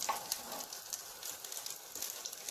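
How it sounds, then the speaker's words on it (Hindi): Chapli kabab frying in a pan, a steady soft sizzle and crackle of hot oil with small pops scattered throughout, no voices. "एक तरफ से सही तरह से जब ये फ्राई हो जाएगा तो मैं उसकी साइड बदल दूंगा"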